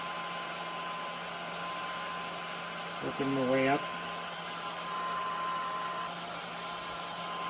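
A child-sized Barbie hair dryer warms a decal being applied to a 1982 Honda CB900F motorcycle during a barn-find restoration, giving a steady, airy whir that runs throughout. A brief burst of talk rises over it midway.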